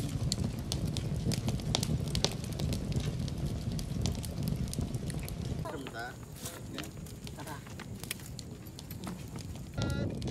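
Campfire burning for cooking at a campsite in Zambales, a steady crackling and hissing flame heard close up throughout, with voices talking over it and some clattering in the middle.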